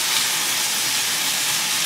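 Ground beef sizzles in a frying pan as a steady, close, broadband hiss with no talk over it.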